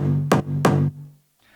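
Layered electronic synth lead with two sharp synth shot accents stacked on top, a full sustained tone with two bright stabs before it fades out.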